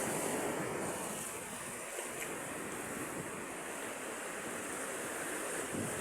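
Ocean surf crashing against a seawall lined with concrete jackstones, a continuous loud roar of breaking waves with wind noise buffeting the microphone throughout.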